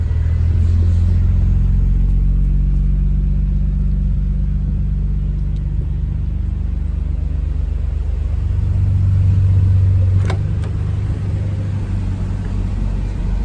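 A GTR engine with an aftermarket exhaust rumbles steadily at close range with a deep exhaust note at a USS Nagoya auction, swelling slightly near the end, with no voices.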